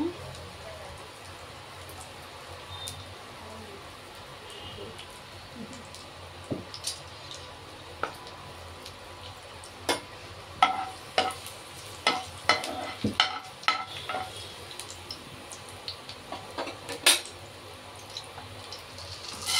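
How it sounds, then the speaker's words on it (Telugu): Onion frying in oil for an Andhra-style bitter gourd curry, a soft, steady sizzle with sharp spoon clicks and scrapes growing more frequent in the second half. "ఇదిగోండి ఉల్లిపాయ వేస్తున్నాను"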